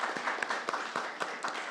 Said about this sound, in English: let's give a big round of applause for true Father